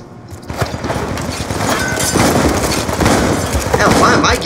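Rapid bursts of gunfire from a Call of Duty: Black Ops 2 multiplayer match, dense and loud throughout, with overlapping shots and impacts filling the whole stretch.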